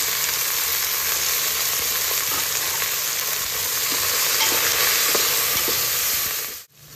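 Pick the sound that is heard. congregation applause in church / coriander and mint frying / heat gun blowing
coriander and mint frying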